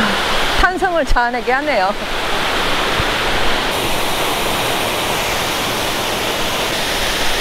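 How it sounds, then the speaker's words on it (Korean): Towangseong waterfall on Seoraksan roars as a steady, loud wash of falling water with drifting spray, and someone speaks briefly over it near the start. "와, 이제 토왕성 폭포에 다 왔습니다."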